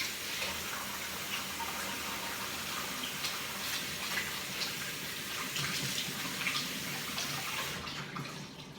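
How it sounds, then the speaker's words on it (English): Hands are washed under a running kitchen tap, a steady rushing stream of water splashing into the sink for several seconds, fairly quiet and uninterrupted, before it eases off at the end. "Let me wash my hands."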